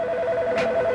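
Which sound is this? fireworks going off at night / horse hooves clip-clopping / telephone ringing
telephone ringing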